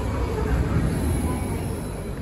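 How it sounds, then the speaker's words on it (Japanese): Low, steady rumble of a JR 789 series Lilac limited express train departing, heard from inside with a broad rolling noise and a faint high whine above it. "旭川行きの始発の特急列車、特急ライラック1号が発車していきます。"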